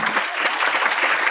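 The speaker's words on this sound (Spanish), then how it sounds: "Dando un aplauso, Señor." Church congregation clapping together in a brief, dense burst of applause, loud and even from start to end.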